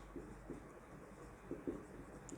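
A pen writes out an accounting journal entry on paper, giving faint, soft scratchy strokes in short bursts under a quiet room hiss.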